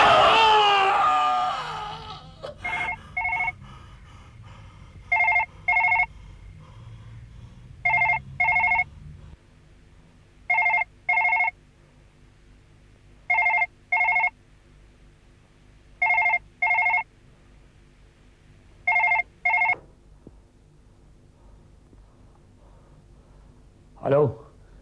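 A telephone rings late at night in a horror drama, sounding in repeated paired bursts at a steady rhythm after a brief loud cry or shriek at the start, with a low background drone.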